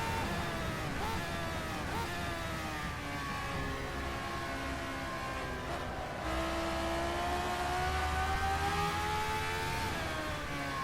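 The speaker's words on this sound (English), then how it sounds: "I'm guessing these cars use similar engines, but this sounds a little more visceral, a little more raw" A classic Formula 1 car in rFactor 2 screams through its revs, the engine note rising and falling through gear changes in a continuous raw, loud wail heard close from the cockpit, with no talk over it.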